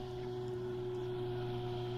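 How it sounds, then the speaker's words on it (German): A motorboat engine runs on a lake during a zander fishing trip, giving a steady, even drone with a tonal hum and no breaks. "Ab ins Boot setzen, Motor anmachen und ein bisschen mittig reinfahren."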